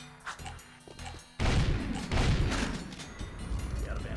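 Turret gun fire in the video game Jak II: a couple of muffled thumps, then a sudden heavy burst of loud booming blasts and crashes that keep rumbling on, with game noise around.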